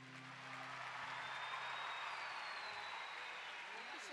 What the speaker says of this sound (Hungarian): Most jöhet a taps nekik.